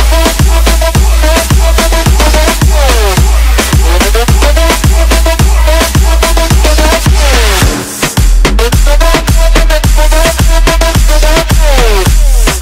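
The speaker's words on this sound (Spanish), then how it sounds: "Vamos a escuchar el drop primeramente y luego vamos a escuchar el kick solo" A loud, dense moombahton drop with a pounding kick drum on a steady beat, buzzing synths and a brief break in the middle.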